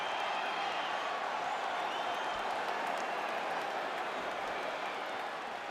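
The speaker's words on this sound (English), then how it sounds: "This crowd is going sick after what they saw in that previous round" Steady, loud arena crowd noise from the UFC 5 video game during a Anderson Silva vs Robert Whittaker fight, a dense roar of cheering and applause sustained throughout with no break.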